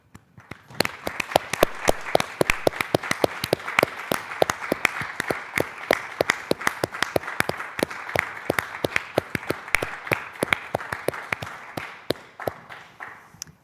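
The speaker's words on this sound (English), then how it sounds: "Please join me in a round of applause for Reuben." Applause for an award recipient at a 2020 community awards ceremony, a dense, sustained round of clapping from a fairly small audience, steady and close, with no speech over it.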